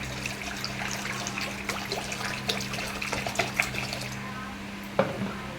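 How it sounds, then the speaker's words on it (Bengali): Water poured into a wok on the stove gives a steady, close splashing rush for several seconds, with a few light clinks and a sharper splash near the end. "আমার কড়াইটার ভিতরে দিয়ে দেবো কিছুটা জল"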